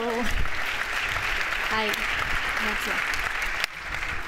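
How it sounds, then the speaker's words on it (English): An audience at a startup awards event in Barcelona applauds steadily for several seconds. A speaker's voice cuts in briefly over the clapping near the start and again partway through. "Big round of applause for them."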